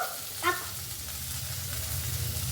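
Masala with coriander powder fries in a pan, giving a steady, close sizzle with a brief stirring scrape near the start and no talking.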